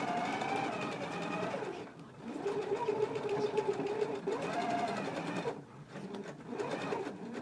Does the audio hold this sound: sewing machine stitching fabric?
yes